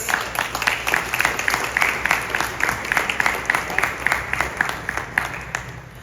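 A town hall audience at Allen Temple Baptist Church applauding to welcome the moderator, rhythmic, fairly unified clapping from a crowd, close and steady before tapering slightly at the end.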